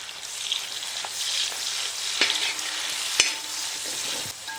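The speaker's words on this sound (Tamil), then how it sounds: "வெங்காயம் நல்லா பொன்னிறமாக வதங்கி வரணும்." Onions frying in oil in a pan for mutton biryani, a constant bright sizzle with occasional scraping knocks from stirring, close and steady with no talk.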